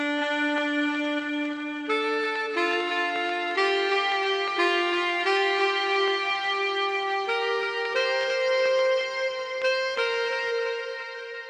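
Software saxophone with effects added plays a smooth, legato melody of sustained notes that blend into each other with a washy tail, alone and up front.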